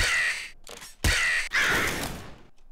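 Crows in the video game Nuclear Throne caw loudly and close, three harsh drawn-out calls in a row with short gaps between them and nothing else beneath.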